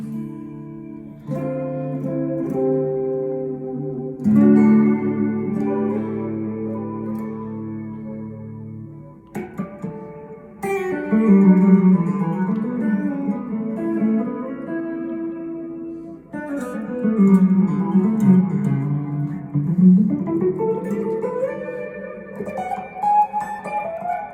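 A clean 1994 Fender Stratocaster Ultra through a Little Walter amp plays sustained chords and melodic lines drenched in reverb, phrases ringing out and overlapping, with no talking.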